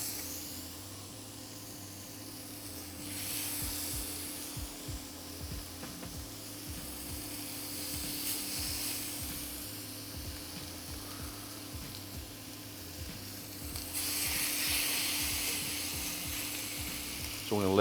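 Chicken thighs searing skin-down in a hot pan, a soft, continuous sizzle with a faint steady hum beneath it, low and even throughout.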